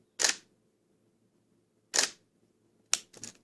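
Shutter of a Nikon D600 DSLR firing, three sharp mechanical clicks spaced apart, the last a quick double, crisp and close against near silence.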